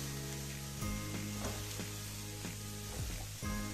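Chopped tomato stirred into a sizzling pan at a Mumbai street-food stall making pudla sandwiches, with steady close frying hiss and a few scraping spatula strokes, no voices.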